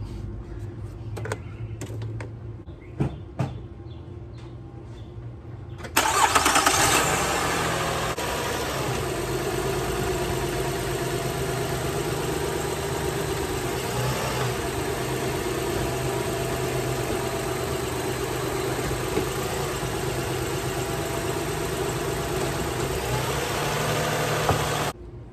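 A 2004 Toyota Sienna engine cranks and catches after a few quiet clicks, then settles into a steady, even idle that runs close and unbroken for the remaining twenty seconds before cutting off.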